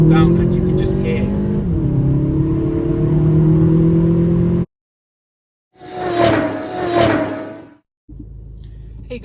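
Audi A1 Competition Line engine revving and accelerating hard, a loud, rising drone for several seconds that cuts out abruptly, then returns in a second strong burst before dropping to a lower hum.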